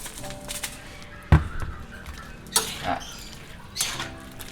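Chop suey vegetables and meat get stirred in a pan, with a few sharp clanks of a utensil against the metal and light scraping between them, close and fairly quiet.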